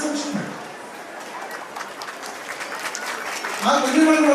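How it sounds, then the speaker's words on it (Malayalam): An audience at a school's 30th anniversary celebration at Bishop Moore Vidyapeeth, Kayamkulam, claps in a steady, fairly loud wash of applause, and a voice starts speaking near the end. "കൈയടിച്ച് കാണും"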